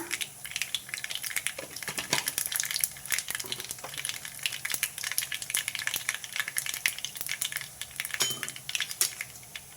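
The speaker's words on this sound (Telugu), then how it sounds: "ఆవాలు చిట్లితేనే దాంట్లో ఉన్న ఫ్లేవర్ బయటకు వస్తుందండి ఆవాలు కొంచెం చిట్లాలి" Mustard seeds and cumin splutter in hot oil for a gongura chutney tempering, making a busy, continuous close-up crackle of rapid pops and spits over a steady sizzling hiss, with no voices.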